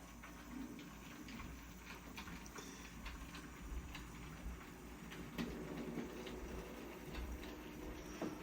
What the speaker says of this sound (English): there we go, first train over